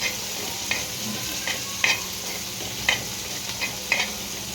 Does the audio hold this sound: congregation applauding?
no